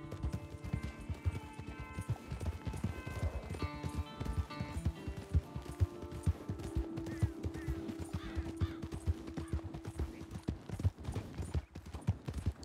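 Horse hooves clip-clop steadily in a western roleplay video game, with a regular trotting rhythm that runs throughout under game music and background sound.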